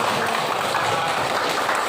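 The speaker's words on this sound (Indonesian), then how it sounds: "tepuk tangan untuk kelompok 1" A classroom of students applauds a group after a correct answer, a dense, even wash of clapping that holds steady and loud for a couple of seconds.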